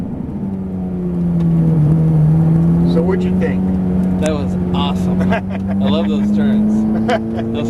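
A Ferrari 430 Scuderia drives off a track and downshifts, its engine drone loud and steady throughout, with brief rises in pitch, while a person speaks over it.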